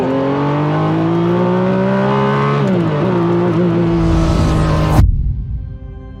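A restored Ferrari F50 engine revving loudly with a strong harmonic drone that rises and holds, then swells in a final hard blip before cutting off abruptly and ringing down to quiet.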